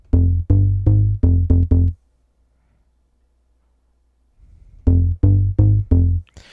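Vital melodic tech house synth bass run through a compressor with mids and lows boosted, a loud, punchy run of bass notes, then a gap of near silence before the pattern returns.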